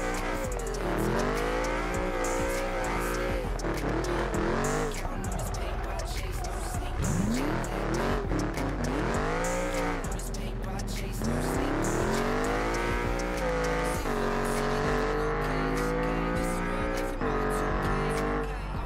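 A totaled C6 Corvette built into a drift car revs hard toward 8,000 RPM, its engine rising and falling in long sweeping pulls with tire squeal, loud and close, while voices talk over it.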